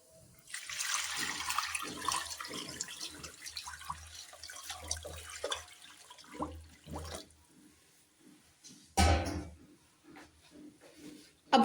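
Hot water pours steadily onto chickpeas soaked in white vinegar, a broad splashing rush that gradually thins to softer trickles and drips, ending with a brief sharper splash.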